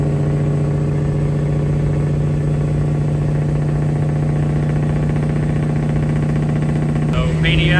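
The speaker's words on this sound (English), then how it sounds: "even like the sound of the truck's different with this turbo and manifold" Diesel pickup truck engine fitted with a new 80mm turbo and PDI manifold: a loud, steady idle drone with a strong low hum and rough mechanical rattle, close up, with a short hiss near the end.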